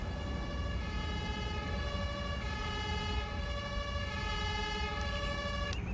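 A fire engine siren from the Emergency 5 game, set in Hamburg, holds a steady multi-tone wail throughout, fairly loud and continuous with no talk over it.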